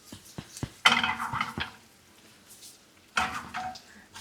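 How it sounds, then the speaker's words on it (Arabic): A metal spoon scrapes and clinks against a pan while chicken musakhan filling with olive oil and ground cumin is stirred, in a few loud close scraping bursts with pauses between. "نرجع بنقلب فيها شوي"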